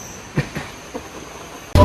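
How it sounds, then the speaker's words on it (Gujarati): A Mumbai slow local train pulls into a station, with a few faint clicks and knocks followed by a sudden loud burst of noise at the very end. "ટ્રેન આવી ગઈ છે આપણી, જોઈ લ્યો. ધીમી લોકલ"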